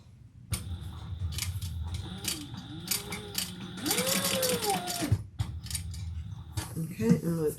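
Sewing machine stitching a fabric bucket bag, bursts of rapid mechanical clatter with brief pauses, ratcheting turns and a whirring run in the middle, close and fairly loud.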